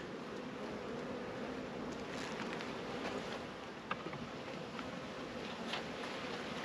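Bees buzz around an opened hive during an inspection with sugar-water feeders, giving a faint, steady, dense hum with no pauses and no speech.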